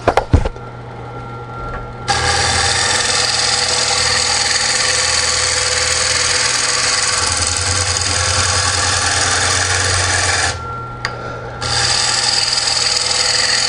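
JET 1220 12-inch wood lathe spinning a wood blank while it is rounded down in the middle, giving a loud, steady mechanical whir with a harsher cutting hiss that drops out briefly near the end, with no talking.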